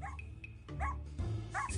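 A small bulldog, found to be a stolen dog during a police check, lets out a few short yips and soft whimpers over a low rumbling background, fairly faint.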